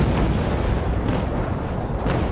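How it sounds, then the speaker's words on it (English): Naval cannons fire from sailing ships in the Naval Action combat game, producing a dense, loud rumbling roar of booms and blasts that blend into a continuous heavy wash. "our cannons were a bit light to actually get the distance there"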